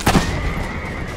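A horse whinnies briefly at the start in Assassin's Creed Brotherhood, its shrill call fading into a steady background hum.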